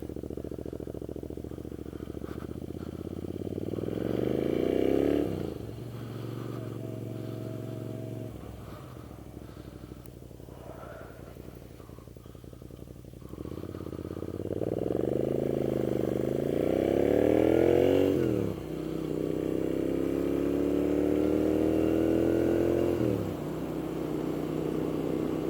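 A Moto Guzzi V7 mk2 750cc motorcycle on a demo ride, its engine droning steadily close by with repeated rising revs through the gears, pauses as it settles to idle, and constant wind rush over the whole stretch.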